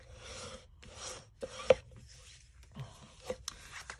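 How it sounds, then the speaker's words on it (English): A bone folder creases and rubs along folded cardstock while a layered snowman Christmas card is made, giving a few short, raspy scraping strokes and soft taps. The strokes come up close and are separated by brief pauses. "we're going to put our bone folder to use"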